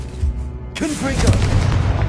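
A Confringo spell explosion from Hogwarts Legacy lands as a heavy, booming blast partway through, followed by rumbling fiery debris and a shouted spell name over the game sounds.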